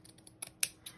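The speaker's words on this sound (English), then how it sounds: "grab my scissors." Scissors snip through brown burlap in a few quick, crisp close-up cuts, a faint dry crunching with short sharp clicks and no voices.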